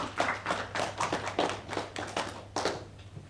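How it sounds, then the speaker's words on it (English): Repeated rhythmic clapping from an audience at a press conference and social mixer, a steady run of claps lasting a few seconds with no talking. "Another round of applause."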